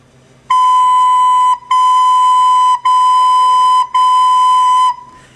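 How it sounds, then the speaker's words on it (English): Four separate sustained recorder notes on the same pitch, each started with a crisp tongued da attack and held about a second with short gaps between, loud and clear, no speaking. "it's like making a da sound while blowing through the recorder."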